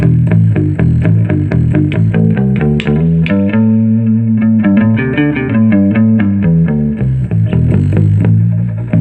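Deep electric bass notes played in a steady run of plucked tones, loud and close, with a buzzy, slightly distorted edge and no voices.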